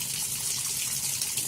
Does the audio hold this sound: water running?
yes